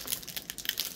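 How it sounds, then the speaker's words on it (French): Close, quiet crinkling of plastic packaging from a Dollarama purchase in quick irregular bursts, a brief handled rustle with no voices. "excusez-moi pour le bruit du plastique"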